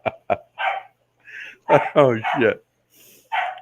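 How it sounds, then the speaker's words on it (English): Puppies yip and bark in short bursts at a casual Friday night hangout, interleaved with brief spoken remarks and exclamations. "Oh, we got puppies barking."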